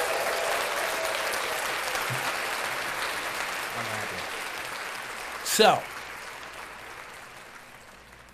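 Steady applause from a live-show audience fills the space, a dense continuous wash of clapping with a brief louder burst near the middle and a few voices underneath.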